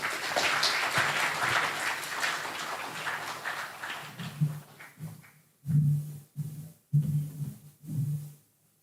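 Conference audience at the 2025 Africa Internet Summit in Ghana applauds, dense clapping that thins out over several seconds into a few scattered, louder individual claps near the end.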